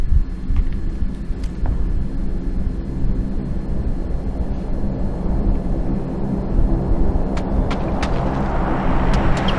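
Airplane flying overhead in the video game PUBG: a continuous low rumbling drone that slowly swells louder toward the end, with no voices.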